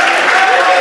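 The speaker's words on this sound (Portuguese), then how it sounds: "Aplaude Jesus" Church congregation at a Pentecostal service applauding together, a dense, steady wash of clapping that fills the brief moment without a break.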